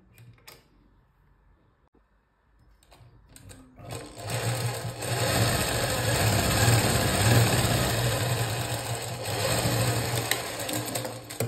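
A domestic sewing machine stitches a princess-cut blouse, its motor starting after a few quiet seconds and then running steadily and close with a continuous whir for the rest of the stretch.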